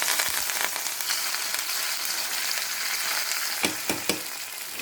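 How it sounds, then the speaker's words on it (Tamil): Mustard seeds and cumin crackle and sizzle in a generous amount of hot oil for a tempering, a dense continuous hiss with a few sharp pops near the end. "இதுக்கு வந்து கொஞ்சம் தாராளமாக எண்ணெய் வச்சு கடுகு ஜீரகத்தை தாளித்து இதில் கொட்டிக்கலாம்."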